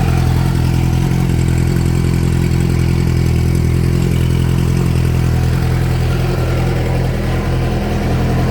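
Freshly swapped car engine started for the first time, idling loud and close with a steady low rumble and faint mechanical clatter throughout, no voices.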